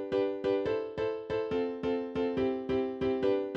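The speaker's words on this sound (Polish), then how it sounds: "gotowy loop z akordami i brzmi on mniej więcej powiedzmy tak." Downloaded chord loop playing in FL Studio: sustained synth or keyboard chords restruck in a steady pulse about every half second, with a faint low beat beneath, loud and alone with no talking.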